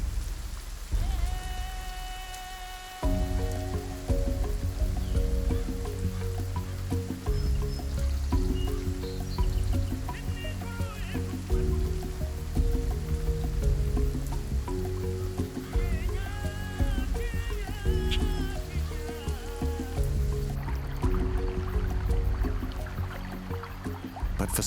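Steady rain patters on surfaces, a dense continuous hiss of drops, with a faint distant rumble and occasional bird calls.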